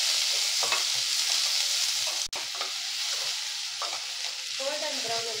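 Onions frying in a pan with whole spices, a steady close sizzle and hiss broken by scraping stirs and one sharp clank of the spoon, no voices.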